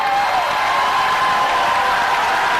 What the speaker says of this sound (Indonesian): silahkan kalau dari para pendukung pasangan calon kita boleh tepuk tangan